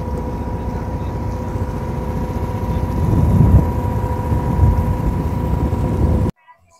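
A passenger launch's engine drones steadily while travelling on a river in Bangladesh, a continuous low rumble with a humming tone that swells briefly midway before cutting off.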